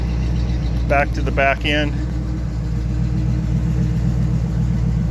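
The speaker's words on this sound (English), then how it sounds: "Just had a new custom exhaust put in, and you can probably hear how the motor is running." A 1979 Hurst Olds V8 idles steadily through a new custom exhaust, a continuous low rumble with a regular throb, heard close while someone talks briefly over it.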